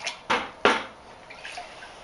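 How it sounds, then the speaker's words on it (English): Two quick splashes come as a zinc-plated hinge is rinsed in water, followed by softer drips and faint sloshing. The sounds are close, brief and quiet, with no speech. "let's give this a little rinse off in some water here"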